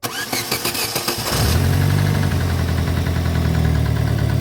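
A Daewoo Lanos 1.5 engine, just fitted with new injectors, cranks on the starter for about a second and a half, catches, then settles into a loud, steady, slightly noisy idle close to the recording point.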